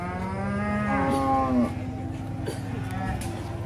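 A large PO-breed cow at an Indonesian livestock market lets out one long, drawn-out moo that rises and breaks off, followed by a quieter low grunt amid faint market background noise.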